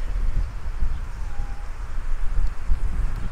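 Gusty wind blowing through a vegetable garden with onion and carrot beds, a steady low rumble of buffeting against the microphone that swells and eases in uneven surges throughout, with no voices.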